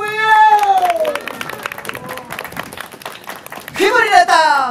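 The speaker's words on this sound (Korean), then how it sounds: "여러분들 조금 실수가 있더라도 다시 살아서 올라올 수 있도록 큰 박수 부탁드립니다" An audience at a Korean tightrope walking performance claps and cheers, a dense crowd sound that swells near the end, under a performer's sung and shouted calls.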